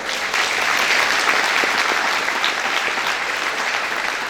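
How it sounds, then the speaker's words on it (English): A crowd applauds at the Southeastern Farmer of the Year award ceremony at the Sunbelt Ag Expo, a dense, even wash of clapping that holds steady and loud for the whole stretch without voices. "Let's give them all a round of applause."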